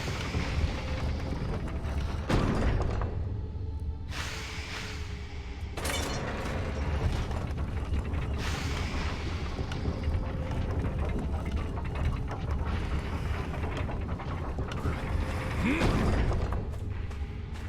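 A mechanical elevator in the video game Conan Exiles rumbles and grinds continuously, with creaks and clanks over a dense, even drone that runs the whole time.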